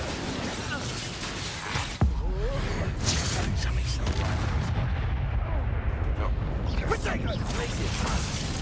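An Incendio fire spell cast during combat in the video game Hogwarts Legacy: a sharp impact gives way to a dense, continuous roar of fiery, crackling game effects layered with battle noise.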